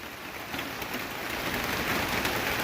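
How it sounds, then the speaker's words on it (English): Steady rain during a thunderstorm pours down in a continuous, dense hiss of drops on surfaces, loud and close, with no thunder or voices breaking through. "the rain is calming down a bit"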